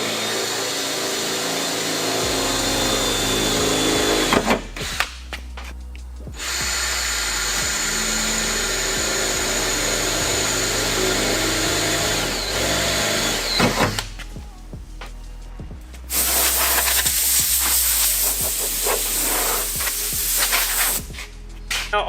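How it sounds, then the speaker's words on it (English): A power drill whines and grinds through material in long continuous runs, separated by short pauses, loud and close, drilling holes for a snorkel install on a 2021 Toyota Land Cruiser 200 Series. "before I start drilling out these other holes"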